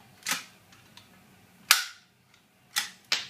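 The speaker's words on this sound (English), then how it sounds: "Bring up your plate and squeeze the trigger to collapse the rivet." A hand rivet gun collapses a rivet through steel trunking lid on a workbench, giving several sharp, loud snapping cracks spaced unevenly apart, each followed by a brief decay, with quiet in between.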